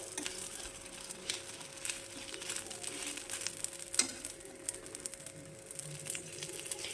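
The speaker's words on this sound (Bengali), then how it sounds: "এবার আমি তেল দিয়ে দেব তেল দিয়ে কিন্তু এটাকে লাল করে ভেজে নিতে হবে" Paratha frying in oil in a pan makes a faint, steady sizzle with light crackling and occasional pops, alone without speech.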